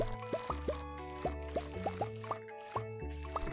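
Crops are pulled up in a Stardew Valley farming game with a rapid series of soft, plopping pops, about a dozen short pickup blips at an uneven pace over quiet, chiming background music.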